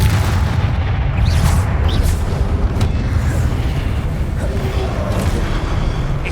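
Confringo explosive spell blast in the video game Hogwarts Legacy, a heavy booming rumble that rolls on steadily for several seconds, loud and close, with sharp crackling bursts scattered through it.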